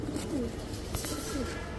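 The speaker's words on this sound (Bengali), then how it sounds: "একটা নর কবুতর দর্শক দেখেন" A male tournament racing pigeon coos in low, throaty, repeated rolling calls, close and moderately loud over a steady background hum.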